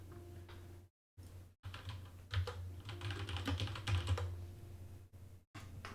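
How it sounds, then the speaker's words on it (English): Fingers tap steadily on a computer keyboard in bursts of close, crisp keystrokes over a low hum, broken by a few short silent gaps. "Here I go typing"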